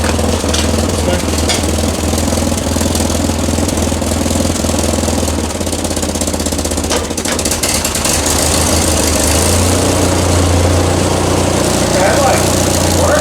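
An Oldsmobile 455 V8 idles low with a leaking exhaust, a loud steady rumble that stays close throughout, with people talking over it.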